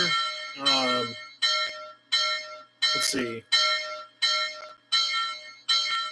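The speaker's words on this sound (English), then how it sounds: "And then here's the bell. The bell sounds nice too." A model railroad locomotive's sound-equipped bell rings in a steady, evenly spaced series of bright metallic dings on a layout, with someone speaking briefly over a couple of strikes.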